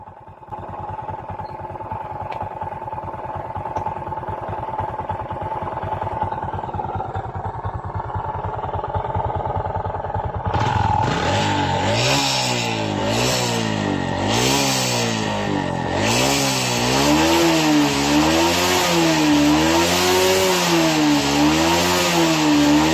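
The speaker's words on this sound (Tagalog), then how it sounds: "ang tunog ng kanyang makina ay para siyang side bearing, no?" Carbureted Honda XRM 125 motorcycle engine with a worn side bearing and connecting rod: a low idle with a rapid ticking pulse, then a sudden loud rise into repeated revving surges that climb and fall, close by with no talk.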